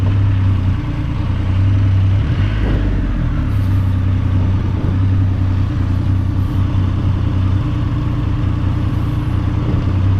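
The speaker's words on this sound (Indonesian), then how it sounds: "Suaranya ya bro, khas 3 silinder Triumph." A Triumph Rocket 3 GT motorcycle's three-cylinder engine runs at a steady, loud drone while riding on a road, with a deep continuous tone and traffic noise around it.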